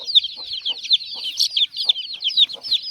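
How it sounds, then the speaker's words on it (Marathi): A desi hen clucks low beneath a rapid, continuous chorus of high peeping from her chicks in a small backyard poultry setup. "काही तिकडे कोंबडी खाली आहे, कोंबडीसोबत बाहेर निघले"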